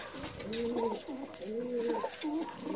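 Pakistani pigeons cooing in soft repeated rolling phrases, two or three coos close by against a faint hiss of background noise, with no talking.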